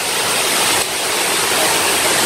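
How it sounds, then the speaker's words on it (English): The main waterfall at Ng Tung Chai on Tai Mo Shan, Hong Kong, roars as a dense, continuous rush of falling water, loud and close, with no voices. "So this is the main waterfalls, guys."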